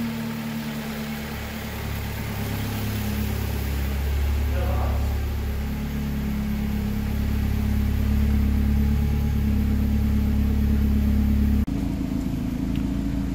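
Turbocharged car engine running steadily after its first start, a close, loud low hum with constant pulsing and a slight rise in the middle, then a sudden shift in tone near the end.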